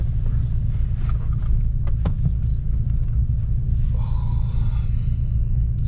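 A car on the Donington Park race track drones with a steady low engine and road rumble from inside the cabin, with a few faint clicks and rattles and no talk.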